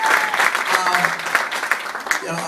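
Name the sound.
audience applause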